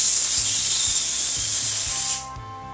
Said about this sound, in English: you're going to release a bit of pressure by making an S sound through your teeth.